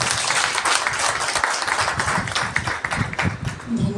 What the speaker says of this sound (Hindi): तो आज के इस दिवस में इन बहनों के लिए एक जोरदार तालियां हो जाएं।